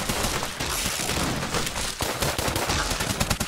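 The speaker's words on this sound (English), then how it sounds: "So I added a small cooldown to the cap gun to give it some restrictions while still keeping it pretty fast." A cap gun in a roguelike video game fires rapid, closely spaced shots, a loud continuous stream of crisp pops with a slight cooldown rhythm, with no other sounds.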